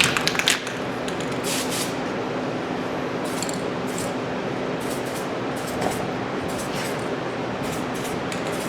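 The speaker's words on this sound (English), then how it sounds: "Spray a little Adhesion Promoter on." Adhesion promoter sprayed from an aerosol can onto a 2014 Jeep Compass Trailhawk part, a steady close hiss running the whole time with a few brief pulses.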